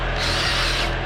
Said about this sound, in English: Drill brushing this floor mat